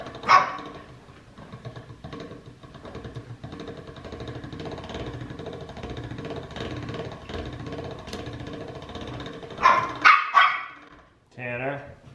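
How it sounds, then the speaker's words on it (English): A dog barks in sharp repeated bursts near the start and again toward the end, over a steady background of household noise with people talking. "no barking"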